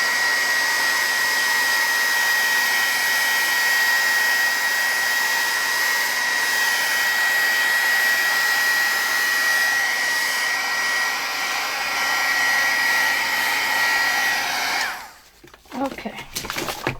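A hair dryer runs steadily over a collage to dry the glue, giving a loud, constant blowing whir for about fifteen seconds before it cuts off, followed by brief handling noises.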